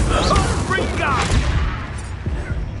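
The Confringo fire spell erupts as a blast in Hogwarts Legacy, mixed with booming bursts and crackling impacts. A voice casts the spell over the effects.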